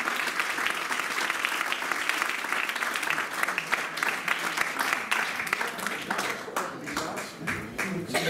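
Audience applause for a speaker at a formal afternoon ceremony, with dense, continuous clapping from a crowd lasting about eight seconds, slightly thinning toward the end.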